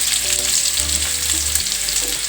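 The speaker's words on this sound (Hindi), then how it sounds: "हल्का सा फ्राई कर लेते हैं लहसुन को भी।" Garlic and green chillies sizzle and crackle steadily in hot oil in a pan while being stirred for lasuni aloo, a loud, close, continuous frying hiss with no talk.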